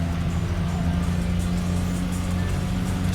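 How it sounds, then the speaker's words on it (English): A video game car engine with stock exhaust in TXR Zero drones steadily with a low, even rumble, holding a constant pitch without revving, fairly quiet throughout. "now we can hear the car a little bit"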